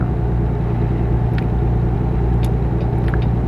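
A truck engine in American Truck Simulator drones at full throttle, a continuous loud low rumble with a steady, unchanging tone and a few faint ticks on top, with no talk.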